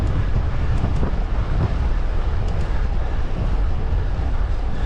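Headwind from the west-northwest buffeting the microphone on a hike toward the Peak District and Pennines, a loud continuous low rumble of gusting wind with faint rustle above it and no voices.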